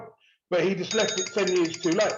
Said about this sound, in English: That was just my phone going off.